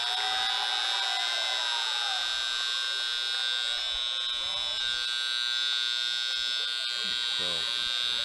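A stuck electronic buzzer at a varsity basketball game drones without pause for the whole stretch, steady, piercing, loud and unbroken, with faint crowd murmur underneath.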